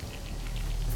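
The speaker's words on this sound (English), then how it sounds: "fixing one of these things in the rain? It's like a thunderstorm, no less." Rain from a thunderstorm patters and hisses in a dense, steady wash, heard through a played video, with scattered drop impacts over a rumbling low bed.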